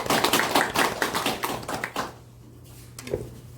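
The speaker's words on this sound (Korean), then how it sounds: "박수로 가져주세요." Applause from a small lecture audience welcoming a professor who speaks on the history of democracy, a couple seconds of brisk, fairly close clapping that stops abruptly, followed by a few stray claps.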